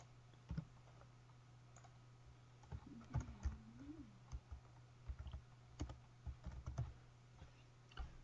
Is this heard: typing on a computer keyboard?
yes